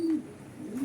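A pet pigeon gives short, low coos, one at the start and another near the end, close by and fairly quiet.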